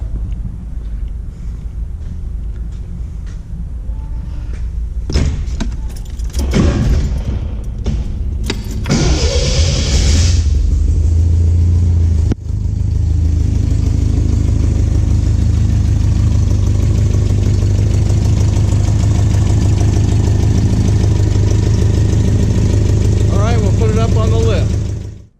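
A 1976 MG MGB cranks and fires, then settles into a loud, steady, low engine idle that runs close to the microphone for the rest of the recording.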